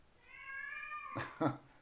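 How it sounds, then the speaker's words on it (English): A drawn-out, high-pitched cat yowl rises and wavers, then breaks into two short harsh bursts; fairly faint and close, with no talking. "My cat's screaming."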